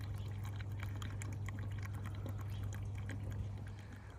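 Hot water trickles and pours through grain mash during sparging for a bourbon wash, a steady close liquid flow over a low constant hum.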